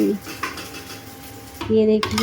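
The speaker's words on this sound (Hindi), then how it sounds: "और अच्छे से बर्तन को धो रही हैं।" Pots and utensils, one slightly burnt, are washed by hand at close range with clattering metal knocks and scrapes, a sharp ringing clang near the end.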